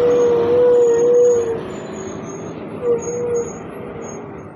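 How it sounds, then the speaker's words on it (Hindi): A Mahindra Blazo truck rolls downhill, its engine a steady near drone with a high whine overhead, easing off partway through and swelling briefly again. "और ये महिंद्रा ब्लाज़ो नीचे उतरती हुई।"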